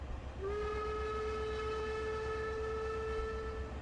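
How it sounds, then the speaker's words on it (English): A German steam locomotive's whistle sounds in Trainz Simulator 3, a single steady, drawn-out tone holding for over three seconds over a low rumbling background. "So I guess I should blow the whistle here"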